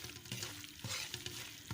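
Semolina roasts in a pan for milk powder burfi while a spoon stirs it, producing rhythmic scraping strokes about every half second over a low, dry sizzle, close and with no speech.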